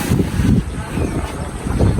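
Wind blows hard across the microphone on a rooftop during outdoor cooking and eating, in rough, low, fluttering bursts that rise and fall continuously.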